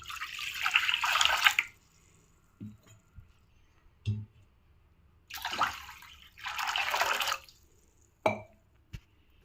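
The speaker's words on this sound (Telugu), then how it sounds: "ఇప్పుడు నేను అదే బాండీలో 8 గ్లాసుల వాటర్ వేసుకుందాము." Water pours from glasses into a pan in several separate bursts, each a loud splashing rush lasting a second or two, with short gaps and a few soft clinks between pours.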